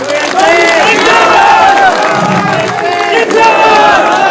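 A political rally crowd cheers and chants slogans in loud, continuous waves, many voices shouting together close by, with a brief dip midway before the roar swells again.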